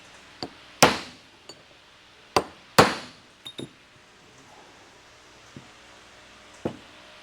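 Sharp metallic hammer blows drive a rear wheel bearing into its housing, about eight separate strikes spaced irregularly, some ringing loud and close with bright decay, others lighter taps, in an otherwise quiet workshop.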